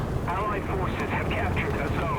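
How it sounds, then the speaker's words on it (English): A warplane approaches in the War Thunder tank battle game, a droning engine roar that rises and wavers beneath someone talking over it. "There's a plane coming in."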